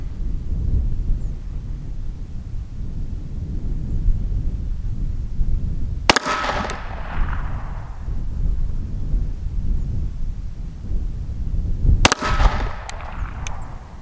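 Two sharp pistol shots from a Tisas 1911 DS Carry ring out about six seconds apart on an outdoor range, each loud crack trailing into a brief echo over a low background rumble.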